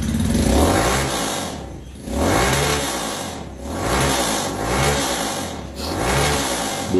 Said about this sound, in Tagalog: Ito naman pakinggan natin ng H2 250cc ni Muhammad.